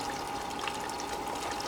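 Water from a 5-gallon bucket drip filter system trickles and flows steadily, a soft continuous quiet stream with no voices.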